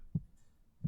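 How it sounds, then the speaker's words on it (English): Heartbeat sound in a guided relaxation meditation, two soft low thumps a little under a second apart, clear against near silence. "You feel your heart beating under your hand."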